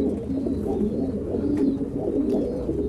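French squab pigeons on a meat-pigeon farm coo in a low, steady murmur during vaccination handling, with a faint chirp or two above the continuous cooing and no talk.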